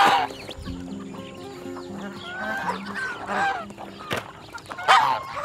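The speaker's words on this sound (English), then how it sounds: "We have more than 100 of chickens right here." A flock of more than 100 chickens clucks and squawks close by, overlapping calls rising and falling with a busy, crowded barnyard feel.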